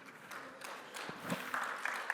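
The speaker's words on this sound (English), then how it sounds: "let's give a round of applause, please" A panel audience at a talk on collaborative forking gives a brief round of applause. The clapping is faint and sparse, with a few scattered hand claps standing out near the end.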